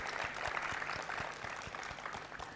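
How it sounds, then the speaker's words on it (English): An audience at a university alumni meet's inaugural function applauds steadily, with a dense, even wash of clapping throughout and a low rhythmic thump running beneath it. "A big round of applause for him."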